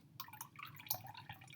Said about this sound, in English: the water all pours out when I remove that plastic